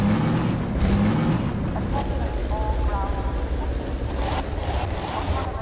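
A car engine runs in a video game, a steady low motor hum with a faint rising tone, continuous and fairly loud throughout.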